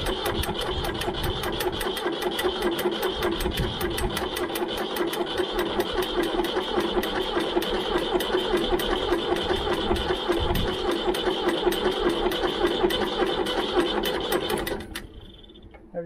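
A Ford 3000 tractor engine runs steadily near by, a fast, even diesel clatter with a slight throttle increase, then cuts off abruptly near the end.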